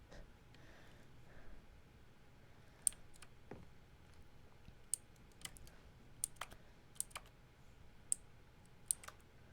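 Sharp keyboard-like interaction clicks from The Stanley Parable Ultra Deluxe, scattered at irregular intervals, faint and isolated over a quiet low background hum with no talking.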